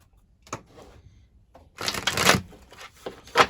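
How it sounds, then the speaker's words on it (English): Tarot cards are shuffled in a few quick riffling bursts, close by, with short pauses between them and no talking. "let's get these cards shuffled"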